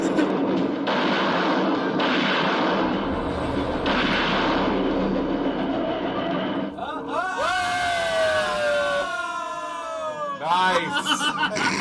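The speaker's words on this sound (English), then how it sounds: "that shot. The trunk exploded." A car trunk bursts after being shot: heavy, booming blasts roll on for several seconds, and then people talk and laugh over the fading rumble.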